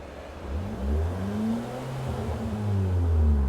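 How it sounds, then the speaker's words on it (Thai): A Honda Brio engine idling and blipped, its revs climbing and settling in steady, close rumbling swells with a clear rising engine tone and no voices. "อ่าเบิ้ลนะ"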